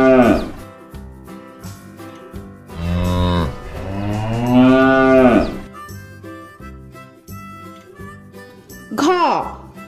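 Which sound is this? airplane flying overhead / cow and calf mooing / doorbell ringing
cow and calf mooing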